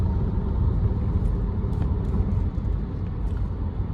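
A steady low road rumble inside an electric car driving at night along a winding road, continuous and fairly loud with faint faster ticks above it.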